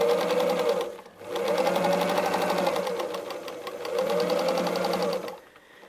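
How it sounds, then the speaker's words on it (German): A sewing machine runs at a steady fast clip, stitching a seam on a small patchwork fabric organizer. A close, even rhythmic hum pulses for a few seconds, pauses briefly, and then resumes. "Diese Linie nähen wir einmal an der Nähmaschine ab"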